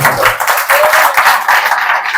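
An audience claps at a Telugu Christian sermon, a dense, steady roll of many hands near and loud that carries on through the whole stretch, with no voice on top.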